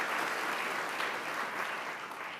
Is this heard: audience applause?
yes